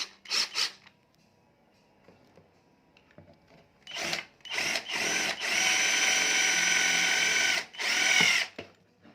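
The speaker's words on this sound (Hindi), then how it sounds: "थोड़ा मोटा करना है ड्रिल को।" A power drill enlarges a hole during a repair of a rechargeable DC battery fan's PWM speed controller, running in several short bursts and then one long steady whine, close and fairly loud with no talk.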